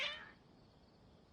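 A single short cat meow from Genshin Impact rises loud at the very start and fades within a fraction of a second, leaving a faint, steady background hum with no voices.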